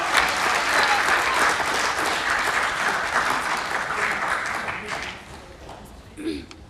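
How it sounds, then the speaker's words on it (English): Steady crowd applause for a student speaker at the Pasifika Fusion 2023 main stage continues for several seconds, thins out toward the end, and is followed by a brief bump of sound. "another round of applause for Tamilia Blackburn from Whanganui High School"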